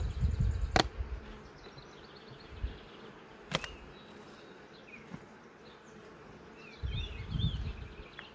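Honey bees buzz around an open hive during a split, with a low, steady hum of many insects, occasional individual bees zipping close past, and sharp knocks of equipment now and then.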